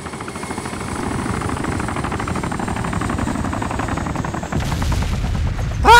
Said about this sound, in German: Heli kommt wieder.